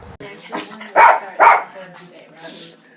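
A pet dog gives two short barks in the middle of a moment of praise and treats, with a person talking quietly before and after.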